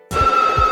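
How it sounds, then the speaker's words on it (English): A telephone rings in the opening of the 1996 horror film Scream, loud and close, with a sustained electronic bell tone over a soft low thump. "The movie begins with a phone ringing, and when Casey Becker answers it"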